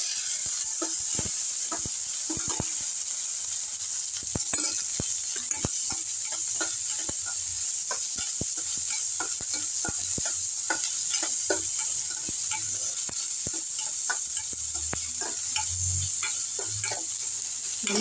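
Onions sauté with dried red chillies in a hot pan for a coriander-greens kadayal, a steady sizzle running throughout with frequent light clicks and scrapes of stirring, close and unaccompanied by talk.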